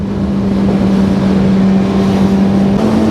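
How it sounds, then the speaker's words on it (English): A loud motorbike engine drones steadily in city traffic, a constant close hum with no break throughout. "What this bike is hella loud"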